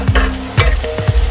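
Chopped ginger, garlic and green chilli sizzle with onions in a pan, punctuated by several quick scraping stirs of a spoon, close and clear with no voices.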